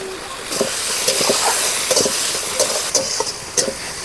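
Chopped tomato goes into a pan of frying onion and green chili for a spicy sea fish curry, setting off a steady close hiss with scattered clicks and scrapes of stirring.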